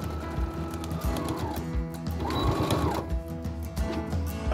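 A sewing machine top stitches fabric on a cosplay garment, its needle running in a rapid, close mechanical chatter with brief pauses and speed changes.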